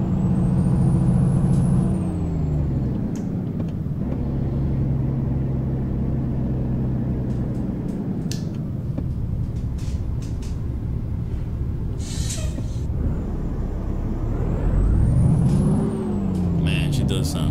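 A Euro Truck Simulator 2 truck with a roughly 390-horsepower stock engine drones loudly, revving up and down, with sharp air-brake hisses and clicks scattered through.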